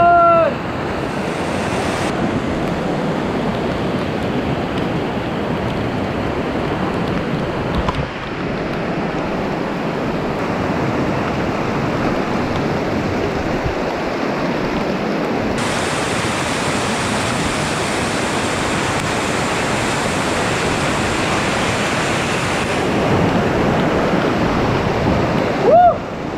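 Kalu waterfall's fast-flowing jungle stream rushes as a loud, steady roar of water, broadband and unbroken throughout, with some wind buffeting the microphone.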